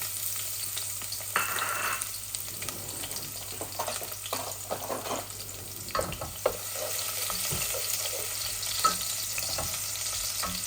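Chopped garlic frying in hot oil in a home kitchen, giving a steady close sizzle with occasional stirring scrapes and faint water sounds, no talk.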